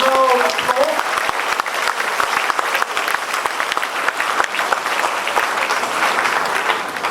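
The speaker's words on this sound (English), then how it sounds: "So let's clap for one another and now let's go." A group of students claps together, sharp individual hand claps standing out over a continuous wash of applause, with a brief voice at the very start.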